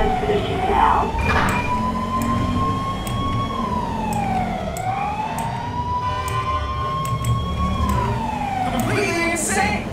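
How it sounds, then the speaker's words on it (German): A police car siren from the PC game GTA 5 with a police mod wails loudly and up close, its pitch gliding slowly up and down in long sweeps, over a low engine rumble. "Machen wir mal die Sirene aus."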